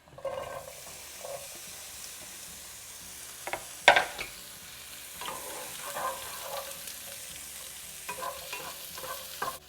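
Roughly chopped onions sizzle and fry in two tablespoons of oil, stirred now and then with a utensil, producing a steady moderate crackle with a few sharper scraping clatters near the start.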